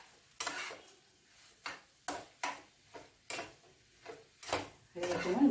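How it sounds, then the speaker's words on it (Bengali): Chickpea dalna with ghee and garam masala stirred in a pan, a series of about eight distinct scraping strokes spaced roughly half a second apart, fairly quiet, with a faint sizzle between them. "নাড়বো, নেড়ে নামিয়ে নেবো।"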